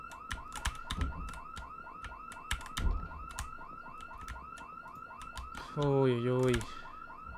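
A car alarm blares in Project Zomboid, its rising and falling electronic wail building to a loud sustained burst near the end, with other game sounds and a brief exclamation from a voice.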